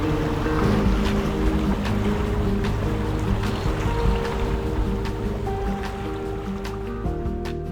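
A sailboat fitted with new sails and rig runs heeled under a fair press of sail in stronger wind, giving a steady, loud rush of wind and water with a low hull and rigging rumble throughout.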